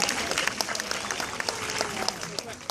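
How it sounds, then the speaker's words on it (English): An audience at an aquarium show applauds, with a steady wash of clapping and sharp individual claps standing out, and voices mixed in throughout. "Let's give Allison a great big round of applause."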